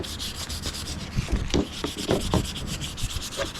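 A wooden wand is sanded by hand with rapid, rhythmic rubbing strokes, a close, rasping scratch that continues steadily with no talking.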